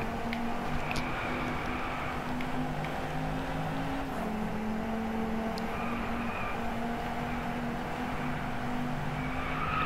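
Racing cars in the video game Driveclub speed around a rain-soaked track, producing a steady, continuous engine drone with a hissing tyre-spray wash and occasional faint squeals throughout.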